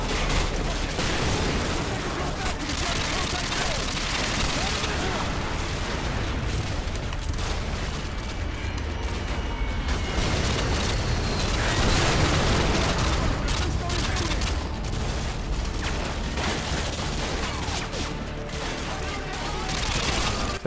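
Full auto gunfire in Modern Warfare, a militia firefight with sustained rapid bursts and booms that carry through the whole stretch at high level, someone talking over the shooting.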